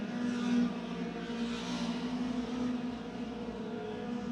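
Race car at Ace Speedway running rough with a possible lost cylinder, a distant uneven engine drone heard from up in the stands with no talk.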